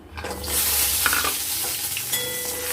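Lentil boris fry in hot oil left from frying fish, a steady loud sizzle with bright crackle and occasional stirring scrapes, close and continuous with no voices.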